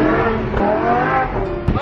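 Engine of a sports car on a drive in Dubai, a loud close revving roar that climbs and shifts pitch, with a brief surge near the end and voices talking over it.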